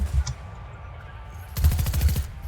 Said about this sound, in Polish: No tam się strzelają.